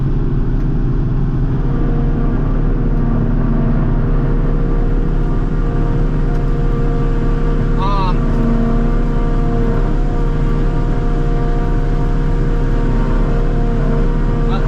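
A lawn mower engine runs steadily with a continuous low droning hum, loud and constant throughout, with no speech.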